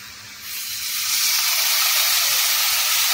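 Water splashed into a pan of spices frying in a little oil with red chili powder and salt, for paneer bhurji; a loud, close hissing sizzle that swells after half a second and holds steady, with no talk.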